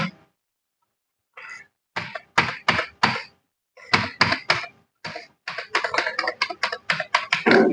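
Computer keyboard typing during accounting software data entry, quiet key presses in short bursts and irregular clusters with brief pauses between, no talk.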